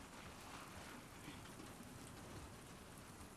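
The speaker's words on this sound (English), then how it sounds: "Let's get out of the rain." Steady rain falls in The Last of Us Part 2, a soft, even hiss of drops hitting the ground that fills the scene at low volume, with no voices.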